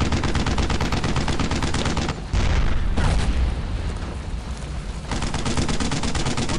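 Rapid machine-gun bursts in the World War II shooter Brothers in Arms as troops fire on an enemy tank, loud, close and sustained, with heavy booms breaking up the rattle midway.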